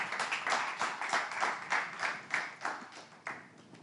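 A crowd applauds a candidate being welcomed at a presented event. Dense, moderately loud clapping runs steadily for several seconds with a loose rhythmic pulse and no talk over it.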